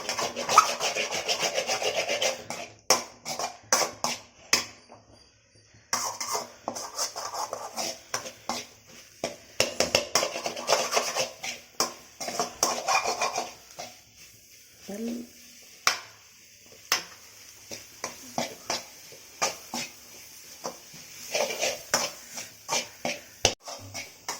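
A spatula scrapes and stirs an egg and broad bean stir-fry in a pan in repeated rough strokes with short pauses, the mixture rustling against the metal; a voice speaks faintly at times.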